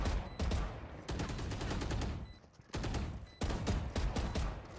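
Gunfire from the video game Valorant: bursts of rapid automatic shots in three or four loud clusters separated by brief lulls, close and dominant, with no talk over it.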